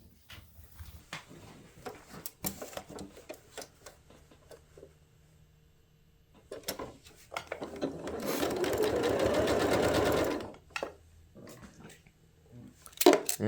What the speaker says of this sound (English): And we're going to go sew this.